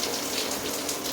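An LED temperature-sensing shower head with mist jets, set to its massage spray, gives a steady, close, dense rush of water that runs unbroken throughout with no voices.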